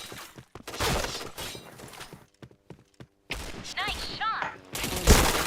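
Bursts of gunfire and shattering impacts in a multiplayer shooter video game, loud volleys broken by brief quiet gaps, with game effects and faint talk mixed in.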